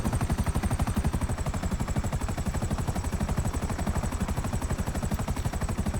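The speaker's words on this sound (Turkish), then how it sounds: "Hani hiç helikopter sürmeyi bilmiyorum ama." Helicopter in the video game Grand Theft Auto V, a loud, fast and even rotor chop pulsing steadily throughout with no talk.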